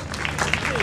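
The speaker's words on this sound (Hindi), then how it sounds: "एक बार कर्णेश जी के लिए जोरदार तालियां." Audience applause at a poetry gathering in Noida: a brief, dense patter of many hands clapping at once, steady and moderately loud with a murmuring crowd.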